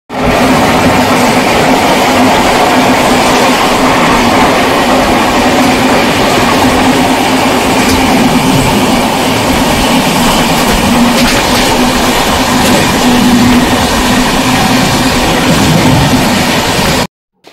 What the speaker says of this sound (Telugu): ఎందుకంటే ఆల్రెడీ మన ట్రైన్ స్టార్ట్ అయిపోయింది